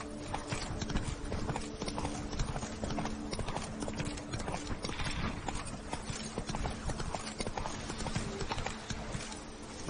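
Roach the horse gallops in The Witcher video game, hooves clip-clopping in a quick, continuous rhythm at low level, with a brief whinny and a steady background hum under the hoofbeats.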